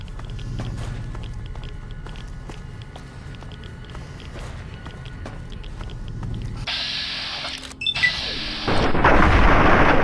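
An explosion booms in Fallout: A Tale of Two Wastelands, a loud, rumbling blast near the end that follows quieter ambient game sounds and faint footsteps.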